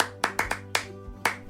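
A child claps hands six times in an uneven rhythm, sharp and close, with quiet pauses between claps.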